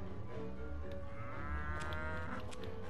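Cow lowing from the video game Rock of Ages 2, a long drawn-out moo that rises and wavers over steady game background sound.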